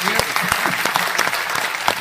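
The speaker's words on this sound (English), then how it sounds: "Applause, please." Audience applause during a radio show broadcast, with close, loud, rapid clapping and distinct individual claps standing out over a dense, continuous background, and voices mixed in.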